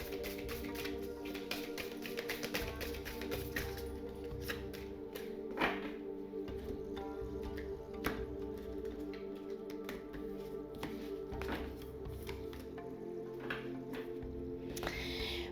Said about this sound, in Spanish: vamos a barajar este maravilloso oráculo